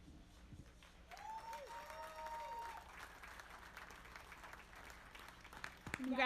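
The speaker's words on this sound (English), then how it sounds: "let's give these exhibitors a round of applause, if you would." Faint, distant crowd applause at a youth beef market show, with a thin patter of clapping, some background noise and a brief tonal squeal mixed in.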